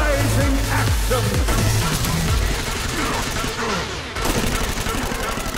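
Gunfire from a battle in the video game Saints Row: Gat Out of Hell, dense and continuous bursts over a loud, busy mix with low rumbling, briefly dipping near the end before resuming.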